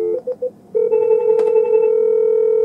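Cisco IP desk phone ringing extension 108 on an Asterisk system: a few short electronic chirps, then a sustained steady warbling ring tone, loud and close with no talk.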